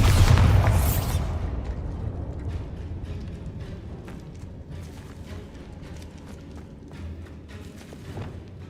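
A loud magical blast from the Bombarda spell in a Harry Potter video game booms at the start, then trails into a long rumbling decay scattered with faint crackles and debris-like clicks.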